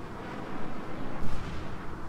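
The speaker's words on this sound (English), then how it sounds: "Let's try that with the airstrike." Continuous rumbling airstrike explosions from the Royal Marines Afghanistan '11 war game, a dense low booming roar with a heavier blast near the middle, loud and steady throughout.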